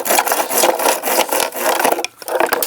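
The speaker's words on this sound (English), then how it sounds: "I like doing it with a handsaw because you get a nice square cut" A handsaw cuts through wood with steady, loud back-and-forth rasping strokes in quick rhythm, close by, with one short pause near the end before the sawing resumes.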